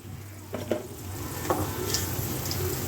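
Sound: coriander seeds added to a frying pan

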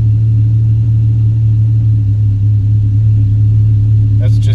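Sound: car engine idling down

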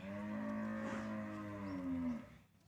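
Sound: cows

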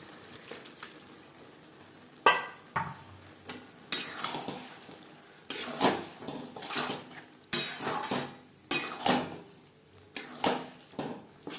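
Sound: stirring pabda fish curry in a pan

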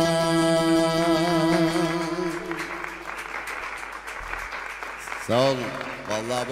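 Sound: audience applause at live Mustafa Keser show

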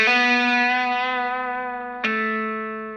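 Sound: electric guitar pull-off with fuzz, from a guitar solo

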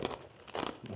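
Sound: chewing ice

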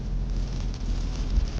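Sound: rain heard from inside a car

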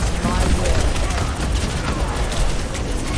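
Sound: explosion in video game Overwatch 2

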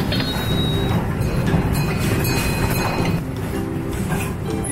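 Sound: tourist park train riding at Waduk Cengklik Park

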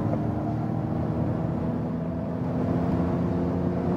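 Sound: Ford Mustang Mach-E electric car accelerating from 100 km/h

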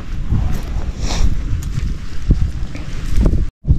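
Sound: strong wind

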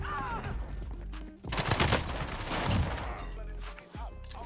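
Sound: LMG gunfire in video game Warzone

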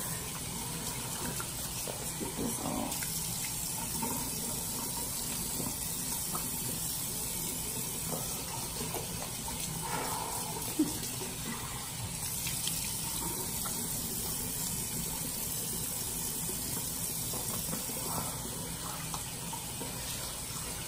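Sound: tap water running while washing off a face mask

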